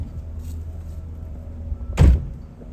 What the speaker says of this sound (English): I was doing great till you slammed the door.